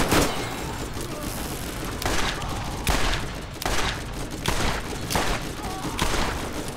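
Rocket launcher blasts from enemies in the shooter game Borderlands, a barrage of loud, booming explosions landing every second or so over constant gunfire and battle noise.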